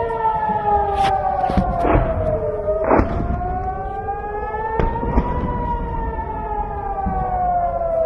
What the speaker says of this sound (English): they air raid sirens